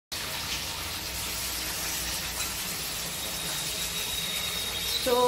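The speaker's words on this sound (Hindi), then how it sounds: "यहाँ पे तेल गरम हो गया है तो हम लोगों ने चिकन डाल दिया है" Chicken pieces sizzle steadily in hot oil in a non-stick kadhai, a close, continuous hiss and crackle that runs unbroken and swells slightly at the end.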